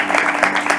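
Audience applause at a lighting masterclass, a brief dense burst of clapping that stays steady and fairly close throughout.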